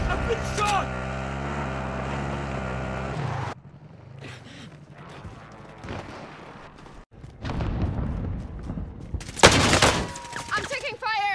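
Video game combat with a droning engine hum at first, then quieter rumbling and a sharp, loud burst of rapid gunfire near the end, with a voice speaking amid the action.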